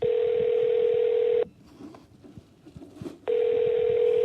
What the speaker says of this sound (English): I started making phone calls to officials in different parts of the Canadian government.